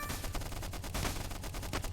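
A machine gun tank in a stickman trench-warfare game fires in a rapid, dense burst of shots, loud and continuous with a crackling rattle.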